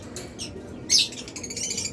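Caged farm birds, including lovebirds, cockatiels, budgerigars and Australian doves, give short, close squawks and chirps, with one loud shrill call in the middle and no talking.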